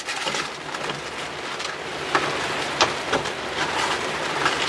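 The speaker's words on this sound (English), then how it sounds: "it's absolutely throwing it down outside" Heavy rain pours down outside a workshop, a steady broadband hiss with a few sharper drops and gusts standing out, heard from indoors at moderate level with no talking.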